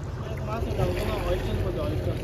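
A tourist boat ride near a butterfly-shaped beach, with a steady low engine rumble and broadband water and wind rush continuing throughout, close and fairly loud.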